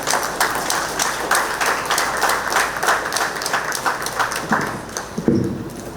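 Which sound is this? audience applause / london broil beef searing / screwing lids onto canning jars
audience applause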